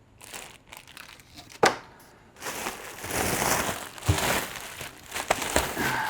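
Protective plastic packaging crinkled and pulled off a newly unboxed Solo Stove Pi Prime pizza oven, close, continuous rustling and crackling with a sharp crunch early on.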